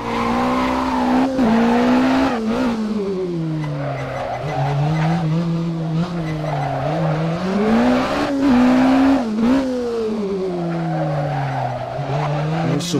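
A Renault Megane kit car at a rallysprint in Hondarribia revs hard and accelerates, its engine note rising and falling through gear changes with bursts of tire skidding, loud and close throughout without talk.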